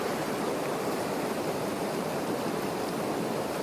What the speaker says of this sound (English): I love the sound of the creek.